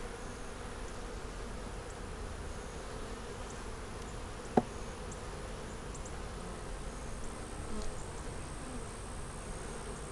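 Honeybees buzzing around a hive in South Carolina, a faint, even, continuous drone of many wings with one sharp click partway through and no voices.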